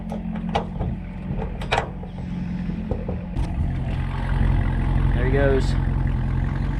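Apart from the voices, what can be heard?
CR1 vehicle engine driving away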